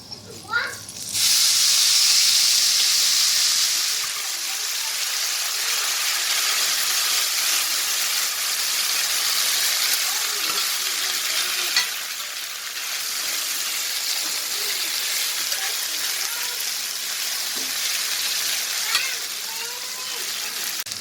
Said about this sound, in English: My garlic and chili has been sauteing for about 3 minutes, so now I'm going to add my pasta.